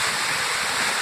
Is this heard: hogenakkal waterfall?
yes